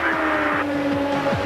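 An IndyCar race car in practice at the 2002 Chevy 500 holds a loud, steady high-pitched engine whine, with repeated gear-shift drops in rhythm as it speeds by.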